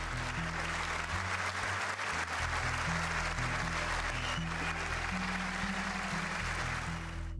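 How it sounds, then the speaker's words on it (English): At the State of the Union, the chamber audience applauds Medal of Honor recipients with sustained, dense clapping and cheering under a low, steady musical bed. "even the Democrats attending were smart enough to cheer for Medal of Honor recipients"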